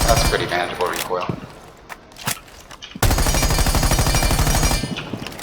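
Rapid automatic gunfire rings out at the shooting range in the video game Rainbow Six, with a sustained fast burst after sparser shots and clinks, while a person talks.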